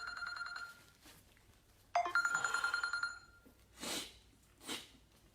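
Telephone ringing during a live French-language radio call-in show, a single clear bell ring with rapid trilling pulses for about a second, followed by faint, brief sounds.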